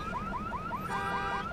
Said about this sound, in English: we'll trip the alarm on that